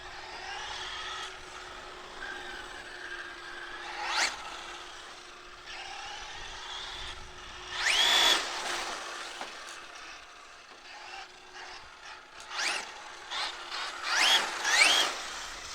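Traxxas Drag Slash RC car on a 3S LiPo battery being driven on an open road, a whining electric motor that surges in several loud bursts with high squeals between quieter stretches, with no talk.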